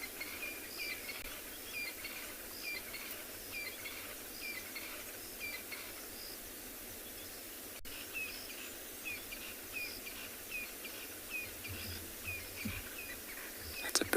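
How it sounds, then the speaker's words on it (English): A crested francolin calls repeatedly in the background of an African safari scene. Faint rhythmic phrases recur over a constant hum of crickets and insects, and no one speaks. "It's a crested francolins."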